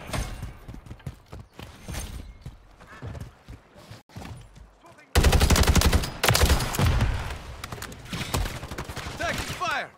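Bursts of automatic gunfire and sharp shots in Call of Duty Modern Warfare 3 multiplayer on the Vanguard Growhouse map, scattered at first, then a sudden loud sustained barrage, with game voice callouts in between.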